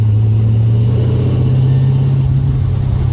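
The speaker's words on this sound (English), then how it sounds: "Get to a certain RPM and it just quits." A car engine with a fault that makes it quit at a certain RPM gives a loud, close, steady rumbling drone throughout, and it never cuts out within these few seconds.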